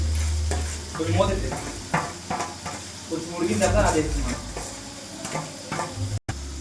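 Onions and eggplant pieces sizzle and fry in a pan, stirred repeatedly with scraping utensil strokes over a steady close hiss, with a brief dropout near the end.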